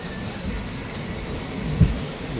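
A train pulling into Veeravasaram station makes a steady low rumble and broadband roar, fairly loud and close, with a brief thump near the end and no voices.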